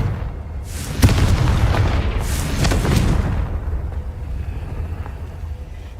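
The Confringo spell in Hogwarts Legacy sets off deep, booming blasts with a sharp crack near the start and a second burst midway, each rumbling and fading away, with no talk.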